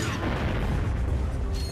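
A deep, rumbling explosion in the video game Ratchet & Clank 2, a sustained low boom with no speech over it.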